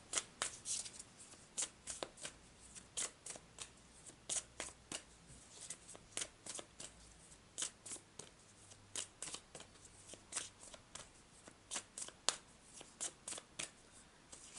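Tarot cards being shuffled for a psychic reading, a long run of crisp, close riffles and slaps at a steady, slightly uneven rhythm, fairly quiet, with no talking.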